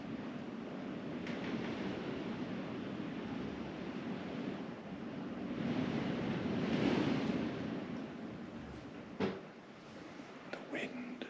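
Wind blowing outdoors around a castle at Halloween, a steady roaring rush that swells midway, with faint knocks and low murmured voices near the end.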